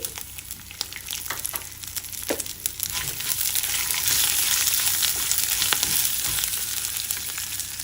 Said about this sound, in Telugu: ఎండుమిరపకాయలు కూడా కొద్దిగా వేగాక దీనిలో 2-3 వెల్లుల్లి గబ్బాలు వేసుకోండి